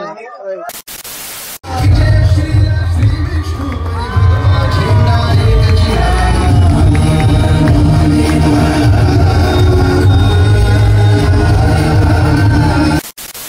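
Dense crowd noise at a crowded Pune Ganpati pandal of Navjawan Mitra Mandal during the festival, a loud continuous din of many voices with shouts and whoops, steady throughout after a brief quiet start.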